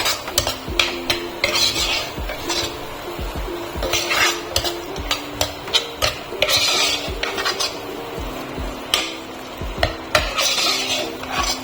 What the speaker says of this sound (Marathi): आता हे सगळे मसाले आपण मिक्स करून घेऊया